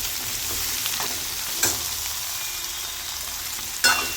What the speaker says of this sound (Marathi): आता यात लगेच आपले वांगे, बटाटा आणि सिमला मिरची टाकून घ्यायची आहे